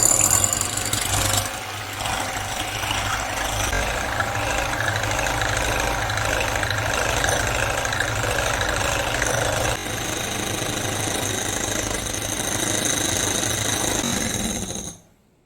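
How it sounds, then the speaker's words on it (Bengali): An electric beater whisks eggs at medium speed, a steady buzzing motor whir that holds for about fifteen seconds with a slight shift partway through, then cuts off abruptly, close up and with no talking. "আর একটা ইলেকট্রিক বিটার নিয়ে নিয়েছি। এবার মিডিয়াম স্পিডে একটু বিট করে নেব।"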